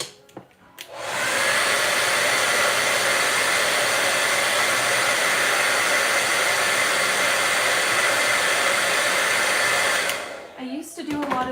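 A hair dryer blasts a steady, loud whoosh for about nine seconds while drying paint on an artwork, switching on abruptly and cutting off near the end with a little handling noise after.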